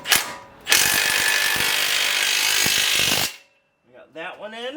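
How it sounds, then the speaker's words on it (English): A ratchet wrench with an 18 mm socket spinning a bolt on a Ford F-150 front strut, a short burst followed by a longer, steady buzzing whir, loud and close. A voice speaks briefly afterward. "we're going to grab the bolt with an 18 millimeter wrench"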